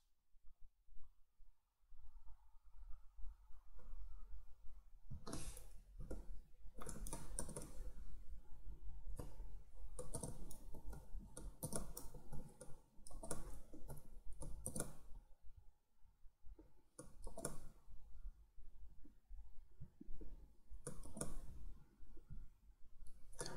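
Quiet computer keyboard typing and clicking while data is entered and pasted into fields of accounting inventory software, coming in scattered bursts of keystrokes separated by short pauses.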